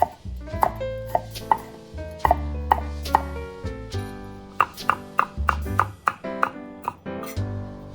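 A knife chops radish, chili, onion, garlic and scallion on a board. The cuts land as a quick series of sharp, close knocks with short ringing tones between the strokes.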